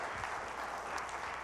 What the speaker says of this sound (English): Andrew Fraser, huge round of applause for your beautiful work.